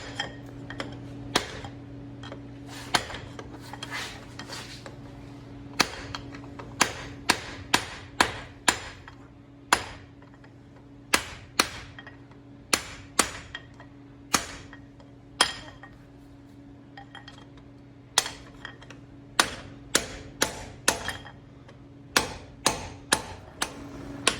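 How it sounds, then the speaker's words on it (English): A steel punch is hammered against the edge of a front CV axle to knock it out on a 2003+ Toyota 4Runner, Tacoma or FJ Cruiser. Sharp, loud metallic blows come in irregular bursts over a steady low hum, with no talking. "we can use like a big punch on the edge of this thing and pound it out"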